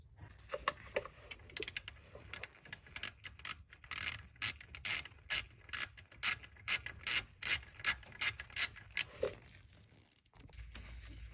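A hand ratchet loosening the alternator bolt on a 2011 Honda Odyssey EX-L, a steady run of crisp clicks in quick rhythmic strokes, close and clear, then stopping abruptly.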